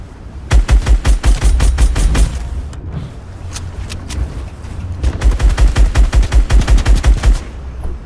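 Rapid automatic gunfire in a shooter video game, loud and close, in two long rattling strings of evenly spaced shots separated by a few sparser single cracks, with no voices.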